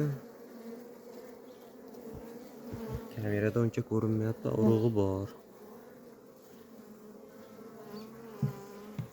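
Young honeybees hum steadily at a hive, a constant buzzing that continues throughout while someone speaks briefly in the middle.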